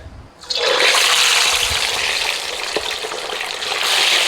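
Fish dropped into hot oil over medium-low heat bursts into a loud, sudden hiss that settles into a steady, close, intense sizzle of frying.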